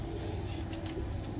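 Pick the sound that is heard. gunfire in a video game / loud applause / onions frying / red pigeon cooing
red pigeon cooing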